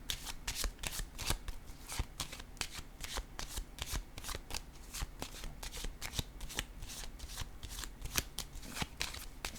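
Tarot cards shuffled and dealt in a steady run of crisp riffling clicks and soft slaps, close and fairly loud, continuing without pause and with no talk.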